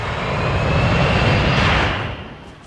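An airborne aircraft passes overhead in a squad shooter video game, its broad engine roar loud and close for about two seconds before fading away, with no talk.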